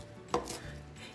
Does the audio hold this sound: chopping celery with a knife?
yes